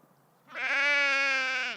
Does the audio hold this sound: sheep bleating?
yes